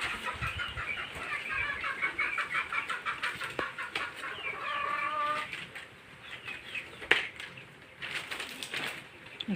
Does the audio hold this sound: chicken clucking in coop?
yes